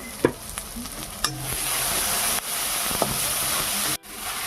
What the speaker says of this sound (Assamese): তাৰপিছত এইখিনি অকণমান ভাজিম